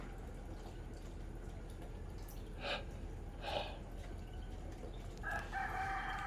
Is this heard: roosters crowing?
yes